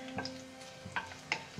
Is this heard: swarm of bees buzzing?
no